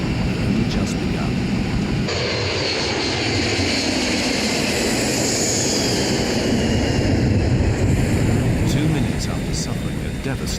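Engines of United Airlines Flight 811, an airliner in a steep emergency descent, form a dense, continuous broadband roar that stays loud and steady throughout, with a voice talking over it.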